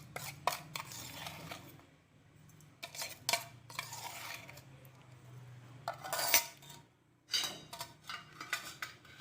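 A metal spoon scrapes and clinks against a bowl as spoonfuls of sugar are added to dalia for sweet modak. The knocks and taps come in irregular clusters with quiet gaps between them.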